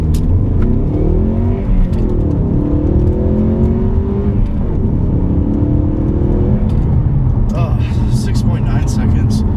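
A 2015 Ford Mustang EcoBoost with a six-speed manual accelerating hard, its engine note rising and shifting steadily through gears, loud and close with continuous road and cabin noise, while a voice talks over it.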